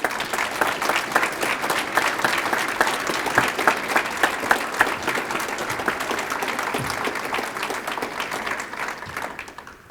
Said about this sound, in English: Let's give these students a round of applause to recognize their achievements.